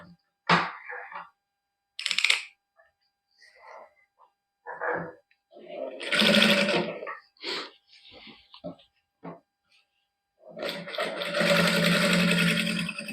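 A sewing machine stitches a folded neckline with basting stitches in a boutique. It runs in short separate bursts and then one longer run near the end, with someone speaking in between.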